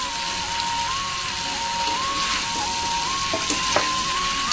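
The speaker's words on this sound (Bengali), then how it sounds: "এবার ওল আর আলু আর মশলা ভালো করে আমি কষিয়ে নেব" Elephant foot yam, fried potato and spices sautéing in a pan give a steady, close crackling sizzle throughout, with a few sharper spits and stirring knocks near the end.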